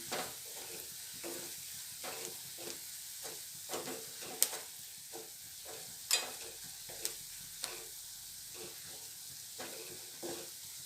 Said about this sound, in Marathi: लाल तिखट धने पावडर छान मिक्स करून घेऊया